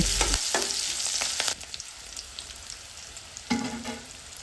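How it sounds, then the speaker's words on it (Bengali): Chopped onion and chili hit hot oil in a village-style Bangladeshi kitchen, sizzling loudly at first, then settling into a quieter steady fry, with a stirring clatter and a fresh burst of sizzle near the end. "এখন এই তেলের মধ্যে দিয়ে দেব কেটে রাখা পেঁয়াজ ও মরিচ এগুলো একটু নেড়ে চেড়ে নরম করে নেব"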